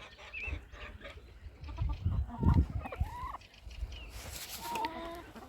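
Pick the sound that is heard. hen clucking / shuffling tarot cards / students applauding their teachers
hen clucking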